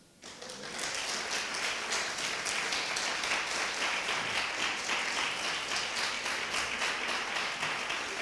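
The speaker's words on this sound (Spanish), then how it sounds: "Denle un aplauso al Rey por eso." A congregation at a Sunday church gathering applauds for the King, steady dense clapping rising within the first second and holding at an even, sustained level throughout.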